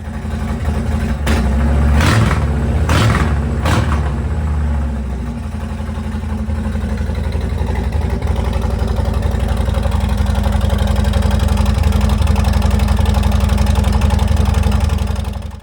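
A Harley-Davidson Fat Boy with its stock exhaust idles loudly up close, a deep lumpy rumble with a few quick throttle blips early on before settling into a steady idle.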